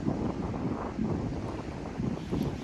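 Strong, gusty wind on the Dnipro river buffets the microphone with continuous low roaring rumble, swelling and easing in gusts, with water and boat noise underneath and no voices.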